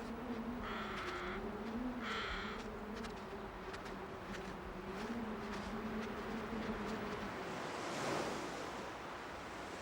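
Ocean swell washing steadily against a wintry Canadian coast, a continuous broad roar of surf that swells briefly near the end, with bird calls drifting over it.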